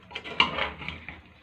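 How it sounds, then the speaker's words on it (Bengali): A metal lid lifted off a pot of cooked mutton, giving a sharp clank followed by a short ringing scrape, close and clear with no voices. "এবার আমি ঢাকনাটা খুলে নিচ্ছি।"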